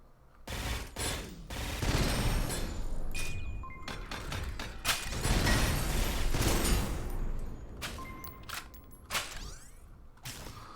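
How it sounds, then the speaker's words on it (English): Gunfire from the video game Synthetik, a weapon shooting in 3-round bursts, heard as loud, dense clusters of shots and metallic mechanism clatter that come again and again, with short gaps between them. "Usually it has a magazine of 3, and it fires in a 3-round burst."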